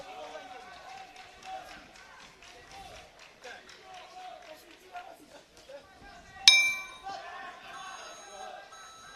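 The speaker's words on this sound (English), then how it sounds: "And there goes the final bell." A boxing ring bell rings out once to end an amateur bout, sharp and bright above crowd noise, while a commentator talks throughout.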